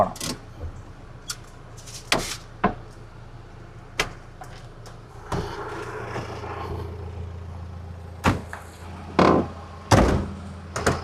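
A Mahindra Thar's doors are shut repeatedly, giving several heavy, sharp thuds spaced irregularly across a quiet background, each one close and loud.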